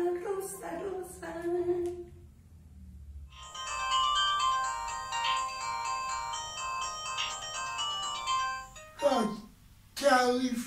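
A telephone ringtone plays a steady electronic melody for several seconds, loud and clear, with voices talking before and after it.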